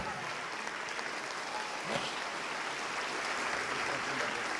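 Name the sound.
church congregation applauding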